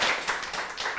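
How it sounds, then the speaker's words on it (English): Brief burst of clapping from a small audience at an Association of Illustrators Q&A event welcoming a guest, a short patter of hands lasting about a second. "everybody give Matt a round of applause."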